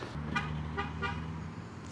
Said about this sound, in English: Now people are honking.